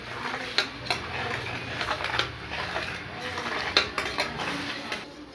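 A spatula scrapes and taps around a pan of melting ghee, repeated clinking strokes over a soft background hiss, close and moderately loud.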